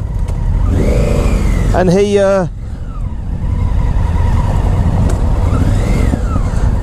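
A Honda Africa Twin motorcycle with a baffleless Scorpion exhaust revs sharply in two rising and falling bursts, loud and close, with another engine pass later and someone talking over it.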